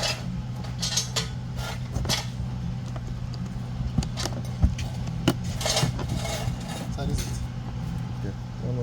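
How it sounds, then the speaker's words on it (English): A container being cut to make a drain pan during motorcycle servicing on a Yamaha Tracer 9: intermittent clicks, scrapes and sharp knocks, close by, spread over several seconds against a steady low hum. "So to create my drain pan, I'm going to cut."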